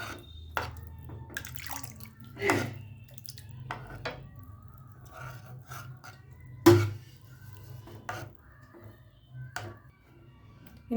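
Water is added to thick dal curry in a pot, heard as sparse splashes, drips and light utensil knocks over a low background hum. The sounds are close but fairly quiet, with no speech.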